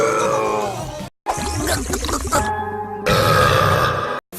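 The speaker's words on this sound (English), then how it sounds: "Normal burp!" A cartoon female character lets out several loud, drawn-out burps, separated by short silent cuts, each a croaky, throaty belch of a few seconds.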